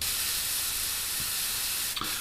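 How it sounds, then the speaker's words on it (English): Flat black paint hisses steadily from a spray nozzle onto the instrument panel of a Hasegawa 1/32 P-40 model kit, a continuous close-up spray with a brief clatter near the end. "We're just going to spray the flat black"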